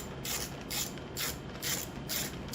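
A ratchet tool works a 6 millimeter bolt loose on a Honda EU2200i generator, making rhythmic clicking ratchet strokes about every half second, close and moderately loud over a steady background hum.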